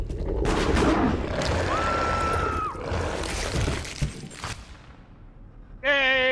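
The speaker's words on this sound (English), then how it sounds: "I'm hearing gunshots." A burst of rapid gunfire and crackling impacts in the video game Deceit fills the first few seconds, followed by scattered shots and debris, ending with an electronic tone.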